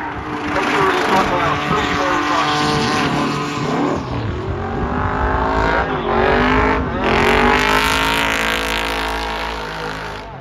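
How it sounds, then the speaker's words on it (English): A Nissan S14 drift car at a Calder Park Raceway drift festival revs hard and high, its engine wailing through repeated rising and falling sweeps, loud and close, with a voice talking over it. "Josh is coming now in the S14."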